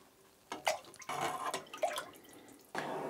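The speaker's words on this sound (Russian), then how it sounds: "Берем 700 мл горячего бульона, отправляем в баночку и провариваем 5 минут." Hot broth poured into an open can of pea soup, heard as close splashy pours in short bursts with small drips and gurgles, starting and stopping several times, no talking.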